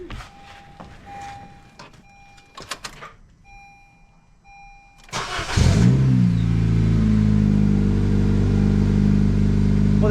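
A 2011–2015 Honda Civic with a newly replaced starter cranks briefly and quickly catches, then settles into a steady, loud idle close by, after some faint clicks and rustling.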